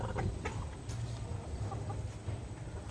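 Gamefowl roosters clucking steadily throughout, low repeated calls close by over a constant farmyard background hum, with no talk.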